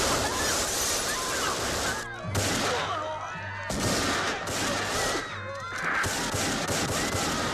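Gunfire in a film scene as one man shoots another, heard as harsh bursts of shots with brief gaps between them and a low rumble underneath.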